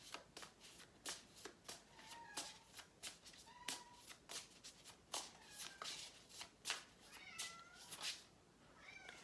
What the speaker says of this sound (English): I'm sorry if you're hearing my cat in the background